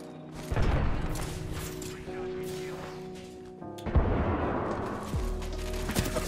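Grenade explosions in the video game Apex Legends: a heavy boom near the start and a second blast a few seconds later, both loud over steady game noise, with some voice underneath.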